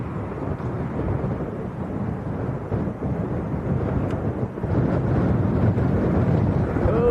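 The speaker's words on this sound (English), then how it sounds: "Big gusts coming through at the moment" Strong wind at Leeds Bradford Airport roars and buffets the microphone in a continuous low rumble, swelling louder toward the end as a bigger gust comes through.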